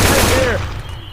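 Gunfire in Left 4 Dead 2 on the Swamp Fever map, a dense burst of shots over loud low game noise that fades within about a second, with speech mixed in.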